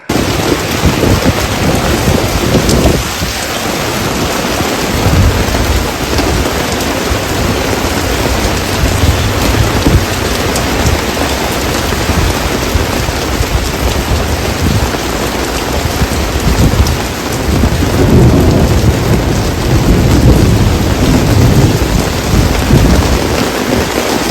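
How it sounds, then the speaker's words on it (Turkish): A sudden heavy downpour with thunder soaks city streets, rain pouring in a dense, continuous roar while thunder rumbles and cracks through it, loud and close. "Aniden bastıran gök gürültülü sağanak sebebiyle vatandaşlar yağmuru hazırlıksız yakalandı."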